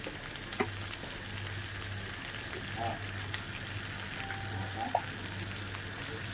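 Spices fry in hot oil in a pan for a Bengali katla fish curry, a steady close sizzle running throughout with a few faint clinks of a spoon.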